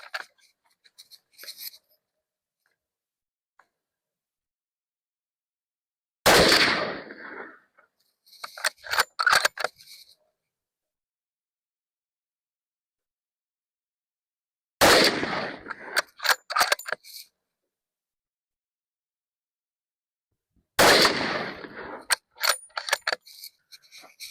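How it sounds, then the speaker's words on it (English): A rifle fires a three-round group to confirm zero, unsuppressed. Three loud, sharp cracks come several seconds apart, each followed by echoing clatter, with no talking. "I'm going to do a 3-round group to confirm zero"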